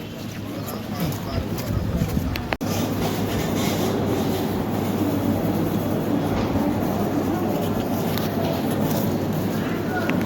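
A train rumbles and clatters steadily at Tata railway station, with a sharp clunk early on and people's voices mixed into the constant noise.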